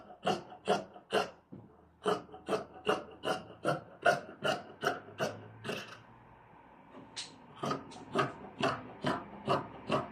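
Fabric being cut with scissors for wide-leg trousers, a steady run of about twenty crisp, rhythmic snips close up, with a brief pause midway before the cutting resumes.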